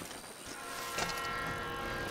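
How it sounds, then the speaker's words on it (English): A train rolls past a mountain biking trail with a swelling rumble, and a brief horn-like tone rises midway before the passing noise holds steady at moderate distance. "Train."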